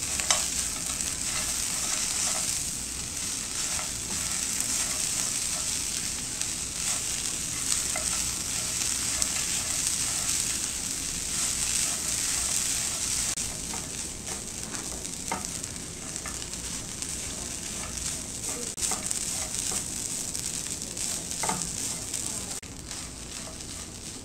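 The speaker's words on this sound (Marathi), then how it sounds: "इथे सगळे ड्रायफ्रुट्स आणि नारळ मी 2 मिनिटं परतून घेतलाय।" Dry fruits, grated coconut and roasted peanuts sautéing in a pan give a continuous soft sizzle and crackle, with scattered light stirring scrapes and clicks throughout, fairly faint and with no talking.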